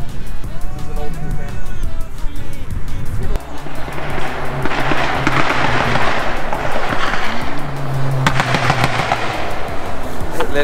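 Rapid crackling pops burst from a car exhaust at a car show as an engine revs, sounding like sharp gunfire, loud and close, with people talking over the noise.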